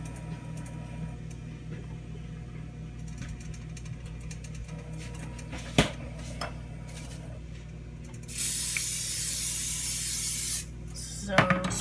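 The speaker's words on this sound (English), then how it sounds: "So spray that up." Cooking spray hisses onto a hot pan in a home kitchen, a steady broadband spray lasting about two seconds above a low background hum, bracketed by a few small clanks.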